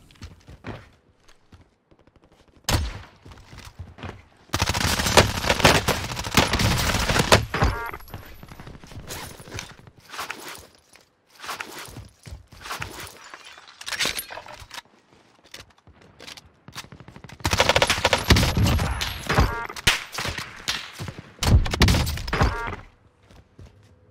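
Gunfire in Call of Duty Warzone comes in dense, loud automatic bursts mixed with sharp single shots and thuds, with short pauses between the bursts.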